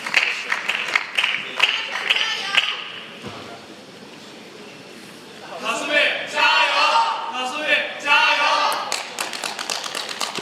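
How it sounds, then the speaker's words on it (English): Fans at a table tennis semifinal between Kasumi Ishikawa and Chung Yi-ching cheer in Chinese, with bursts of rhythmic chanting and clapping that fade into quieter play before the crowd swells again, with some commentary over the top. "Again, cheering in Chinese."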